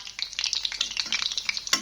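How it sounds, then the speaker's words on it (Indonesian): Food fries in a pan while being stirred. It makes a steady, close crackling sizzle with rapid scraping pulses and a sharper clatter near the end, and no talking. "Aku mau goreng dulu."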